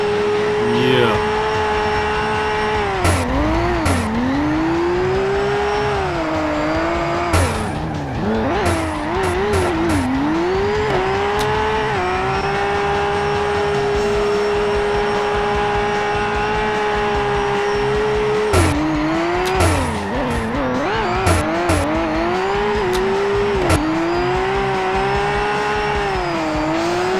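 Simulated car engine in CarX Drift Racing Online whines and revs continuously while drifting, with repeated tire squeals and sliding swoops as the car spins around, loud throughout, a person talking over it.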